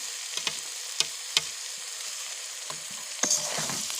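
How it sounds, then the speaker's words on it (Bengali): Spring onion stalks fry with spices in a hot pan, a steady high sizzle throughout with a few sharp clicks and stirring knocks, fairly close. "সেগুলোর সাথে আবার মশলাটাকে ভেজে নেব"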